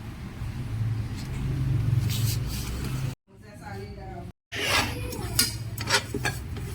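Sesame seeds dry-toasting in a pan, with a close, steady rub and scrape of stirring and light clinks of the pan over a low rumble, broken by a brief dropout partway through.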